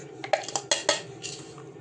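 A spoon clinks and scrapes against a pot while chocolate cream is stirred over the heat, giving a few sharp metallic knocks followed by softer scraping, close and alone.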